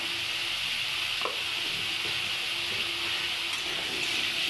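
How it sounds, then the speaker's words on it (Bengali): Potatoes fry in oil with salt and turmeric in a kadai, a steady, fairly quiet sizzle with a few faint stirring scrapes, and no voices. "আলুটা ভালো করে ভেজে নেবো"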